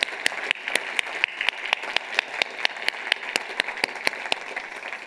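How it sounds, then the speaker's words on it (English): Audience applause for a keynote event's sponsors at an organic farming conference, a steady patter of many hands clapping for about five seconds at moderate distance, without voices over it. "Let's give them a hearty round of applause, all those sponsors."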